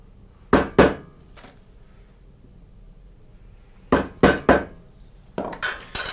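A hammer taps wooden window joinery for a traditional pocket-hole joint: two sharp knocks, then quiet with a faint tap, then three close strikes followed by a quicker ringing clatter, loud and near.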